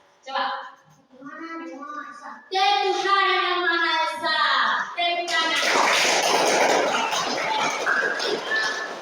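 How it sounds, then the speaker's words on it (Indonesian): Children in a primary school classroom break into dense, steady applause after a few seconds of speaking and chanting, the clapping continuing loud and close to the end. "Tepuk tangan."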